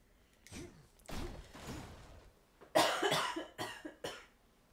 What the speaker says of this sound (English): Sorry for the coughing, guys.